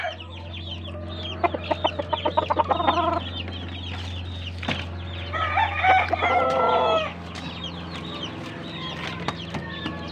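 An 11-month-old gamefowl stag clucks in quick bursts of sharp, close, fairly loud calls in a backyard, with pauses and other fowl faintly audible in the background, and no talking.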